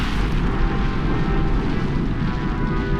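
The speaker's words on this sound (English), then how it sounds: "Explosions, plumes of smoke and ash." Deep, continuous rumbling roar with dull booming blasts from the Sakurajima volcano erupting in Japan, heavy and sustained, rolling on without pause.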